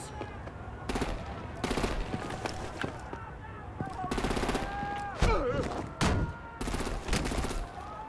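Repeated bursts of automatic gunfire rake enemy vehicles in Batman: The Telltale Series, loud staccato volleys broken by short pauses, with a sharp impact midway and faint tonal hums underneath.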